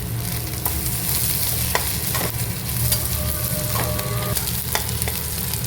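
Onions frying and being stirred in a pan for a brinjal curry, a steady close sizzle with scraping stirs of a spoon throughout, no voices.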